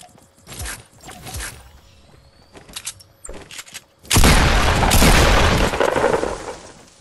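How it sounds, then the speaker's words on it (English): Gunfire in a shooter video game, a burst of heavy, dense shots that erupts partway through and holds loud to the end, after a few scattered sharper impacts. "I was just shooting at him"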